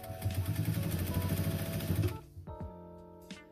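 A sewing machine stitches a seam with a fast, steady mechanical whirr for about two seconds, then stops abruptly, leaving a few faint clicks and handling noises; close and moderately quiet, with no talk over it.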